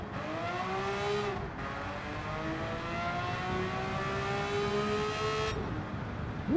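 Porsche race cars in Gran Turismo 7 at a 1960s-style Goodwood Revival night roar past one after another, engines rising and falling in pitch as they sweep by, with a sharp cut between passes and no talking.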